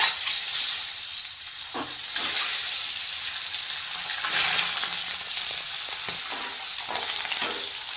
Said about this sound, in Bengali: তেল গরম হয়ে গেছে, এবার ডিমগুলোকে ছেড়ে দেব।